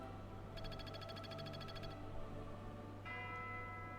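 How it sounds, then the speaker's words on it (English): Game chimes from Fire Emblem: Three Houses signal that the player's energy has run out, a bright repeated bell-like tone over steady background music, followed by a second sustained chime partway through. "those chimes are to tell you that you ran out of your energy stuff"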